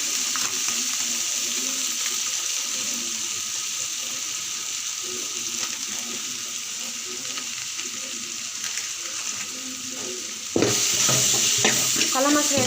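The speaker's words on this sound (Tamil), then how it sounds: "குழம்பு மசாலா சேர்த்து நல்லா வணங்கிடலாம்." Curry masala frying with tomato, ginger and garlic in a pan for a South Indian cauliflower curry, a steady close sizzle with soft stirring scrapes throughout, growing louder near the end as the spoon moves.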